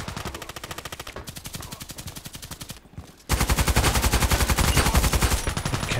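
A high fire-rate weapon in a contracts mission of a shooting game unleashes long, rapid automatic bursts, loud and close, with a brief pause before a second, even louder sustained stream of shots.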